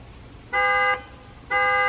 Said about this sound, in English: He can honk at people.